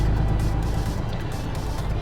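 Truck engine in American Truck Simulator, a steady, dense low drone and road rumble that stays loud and unbroken throughout, with no talk over it.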